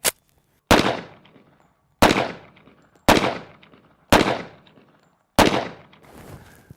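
Double-barrel pistol firing at a range, six sharp, loud shots spaced roughly a second apart, each with a short decaying echo, no voices.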